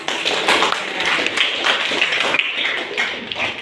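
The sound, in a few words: applause for Grace in a classroom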